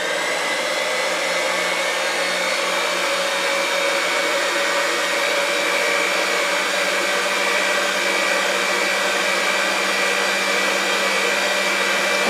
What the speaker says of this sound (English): we're going to whisk until frothy and pale, adding in sugar a bit at a time